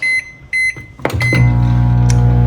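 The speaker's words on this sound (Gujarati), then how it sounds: "આ ગ્રીન ગાર્લિક વાળા પાપડ એટલે આપણે માઇક્રોવેવ કરી દઈએ" Two electronic beeps, a door clunks shut, then a microwave oven starts up with a steady, loud humming drone, heating green garlic papad for one minute.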